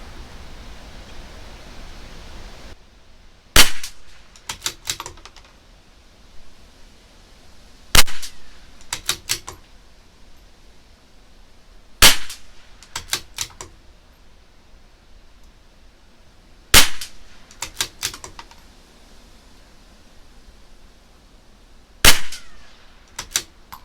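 CZ 457 LRP rifle with an IBI barrel firing SK Flat Nose Match ammunition, five sharp, loud shots spaced about four to five seconds apart, each followed by brief clicks of the bolt cycling.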